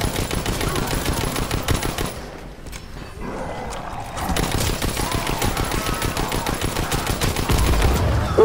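NZ-41 rifle fire in Call of Duty WWII Zombies, loud rapid automatic bursts with a dense rattling rhythm, pausing briefly mid-way before resuming heavy continuous shooting.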